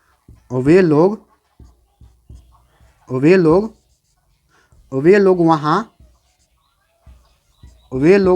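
A marker writes a question on a board, producing four separate squeaky, wavering strokes with short pauses between them, close and fairly loud.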